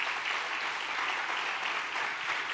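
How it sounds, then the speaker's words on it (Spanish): A church congregation clapping for Jesus during a sermon, a steady, dense wash of applause at moderate volume with no voices over it. "déle ese aplauso fuerte a Jesús y va a aplaudir"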